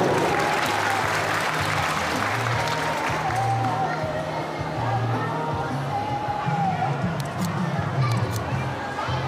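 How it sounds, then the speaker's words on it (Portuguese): An audience at a municipal celebration in São Sebastião do Umbuzeiro applauds a former mayor being introduced, with steady crowd clapping throughout and an announcer's voice and murmuring heard beneath it. "Convidamos com muitos aplausos o ilustríssimo senhor Chico Neves, ex-prefeito de São Sebastião do Cruzeiro."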